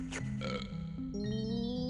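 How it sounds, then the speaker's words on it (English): A cartoonish burp from a character in the video game Banjo-Kazooie, a short voiced belch with wobbling pitch lasting under two seconds, clear and close with no talking over it. "They cannot have anything eat without burping."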